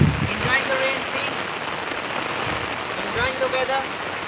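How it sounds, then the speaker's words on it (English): Steady rain patters and splashes on waterlogged ground, a close, continuous hiss with scattered drops and a few faint chirping sounds on top. "24 hours, it's still raining over here."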